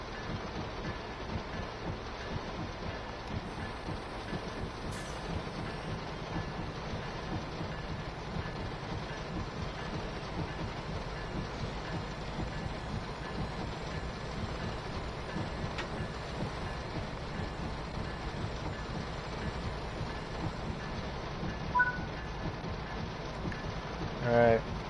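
Rain drums on the roof of a locomotive in the train simulator game Train Sim World 4, a dense, continuous hiss and patter with a low rumble of the train beneath, steady throughout with a few faint clicks.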